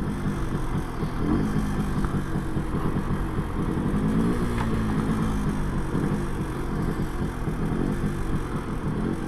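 An MZ TS125 two-stroke motorcycle engine idles and is blipped with the throttle at a stop, a steady buzzing drone with small rises in pitch, close and loud throughout.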